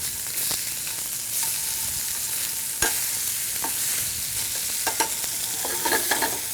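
Freshly flipped spicy chicken sizzles in a hot pan with a continuous bright hiss and a few sharp pops and clicks scattered through, heard up close without any voices.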